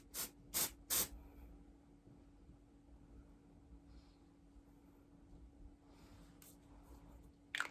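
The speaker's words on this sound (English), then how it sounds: "I just spray it like that, and now I have volume" Hairspray sprays onto curly hair for volume in three short, sharp hissing bursts near the start, then a quiet stretch with faint rubbing and another brief spray at the end.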